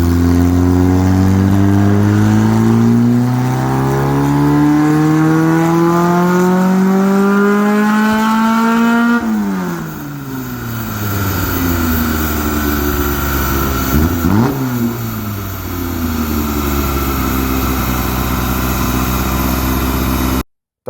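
The 1596 cc Renault engine in a Lotus Europa revs loudly, climbing steadily in pitch, then drops back and idles before blipping again and settling into a sustained high rev that cuts off abruptly.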